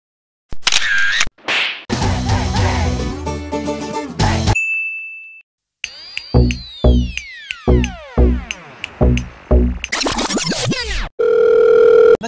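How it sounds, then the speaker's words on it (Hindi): A phone rings in a comedy sketch: electronic chiming and beeping tones, then a rhythmic series of bright ringing pulses, loud and close. "भाई चुप रहे, सुसान का फोन आ रहा, गोली देता हूँ।"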